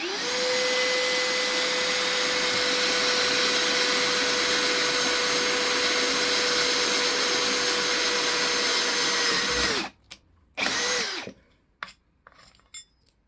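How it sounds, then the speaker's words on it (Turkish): An Einhell TP-CD 18/60 Li-i BL brushless cordless drill with a 5 mm metal bit bores into aluminum, giving a loud, steady motor whine for about ten seconds before cutting off, followed by a few short spin-up bursts. "Beşlik metal uçla alüminyumda bir deneme yapıyorum."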